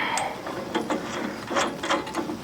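A ratchet clicks in short rapid bursts while tightening a lock nut on a Woodland Mill HM126 sawmill, close up and moderately loud.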